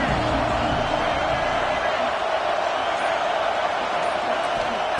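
Stadium crowd in the NCAA 26 college football video game gives a constant, loud, dense roar with no breaks, heard alone with no voices standing out.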